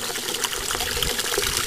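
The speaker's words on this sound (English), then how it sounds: "It only takes about a minute, 45 seconds to flush." Water gushes and trickles steadily through a 3-inch floating outlet siphon alternative as the tank flushes, a continuous close, moderately loud wash with no talking.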